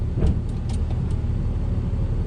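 Inside a snowplow truck fitted with a working plow, a vehicle engine runs with a steady low rumble and idle throughout, close and fairly loud.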